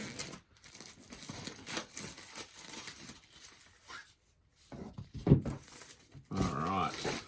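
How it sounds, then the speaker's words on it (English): Shrink wrap is torn off a Project Elite board game box holding the game board and punch boards, giving crinkly rips and plastic rustling in bursts with quieter handling between, close by and alone. "Then in shrink we've got what appears to be the game board and some punch boards. So let's tear that open."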